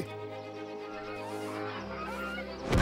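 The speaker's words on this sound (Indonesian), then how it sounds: "Angsa terbang ke selatan jauh lebih awal tahun ini." A cartoon goose in Clash-A-Rama gives one long, nasal, honking call that runs nearly three seconds and ends in a short noisy burst.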